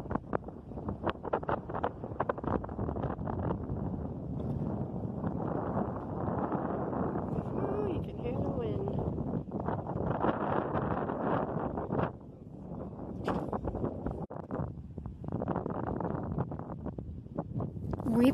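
Steady, heavy wind roar buffets the microphone throughout while kayaking in Florida mangroves, with water sloshing and occasional gusts; no clear voices.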